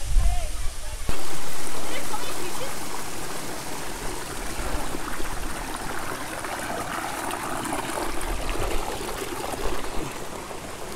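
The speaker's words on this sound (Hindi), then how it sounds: "अभी देखें वाटरफॉल के बिल्कुल करीब आ गए हैं।" The Panjpeer Narar waterfall among rocks in Kahuta, Rawalpindi, roars in a broad steady rush of falling water, loud and close, after a brief rumble at the start.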